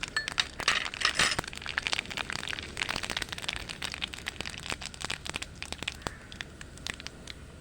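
Mustard seeds, a spoonful, spluttering in hot coconut oil: dense rapid crackles and sharp pops fire continuously and fairly close, thinning slightly toward the end, with no talk.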